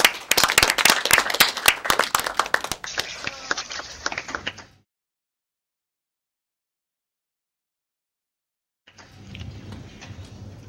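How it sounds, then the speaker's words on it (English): An audience at a panel discussion applauds the presenters, with loud, close, dense clapping that thins out and fades, then stops into silence before faint room noise returns. "can we all applaud all our presenters again?"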